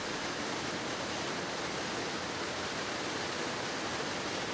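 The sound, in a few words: Vermillion Falls waterfall in Minnesota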